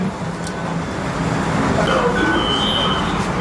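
A Dubai metro train rolls through with a steady, loud rumble that slowly builds. Thin wheel squeals and tones rise over the roar toward the end.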